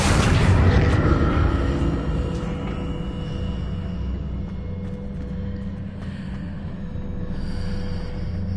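A deep booming impact from the Accio spell in Hogwarts Legacy, loud at the start and then settling into a low, steady rumbling tail with faint tonal shimmer.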